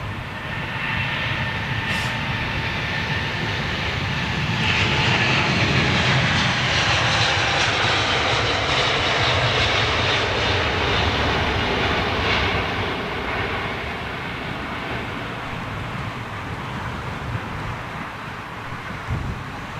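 Airliner jet engines at London Heathrow airport roar continuously, a loud, near, broadband rumble and whine that swells in the middle and eases slightly toward the end, with some wind buffeting and no talk.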